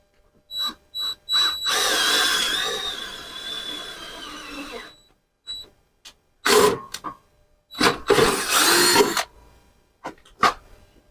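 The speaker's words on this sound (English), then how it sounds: "I think what we'll do is drill a little pilot hole first." A power drill whirs in short bursts, then runs steadily for a few seconds while boring a pilot hole into wood, followed by several more brief, loud spurts.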